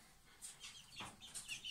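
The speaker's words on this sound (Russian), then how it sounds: "Вот такой петушок." A month-old rooster chick of the Moscow line is being weighed and gives several soft, close clucks and chirps, with faint handling noise between calls.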